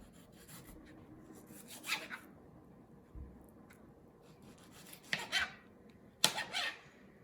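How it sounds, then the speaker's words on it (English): A knife cuts through banana, leaving quiet, sparse sounds: a few soft scraping strokes and light taps against a board, close and faint with long pauses between them. "Now, let's start cutting a slice of banana."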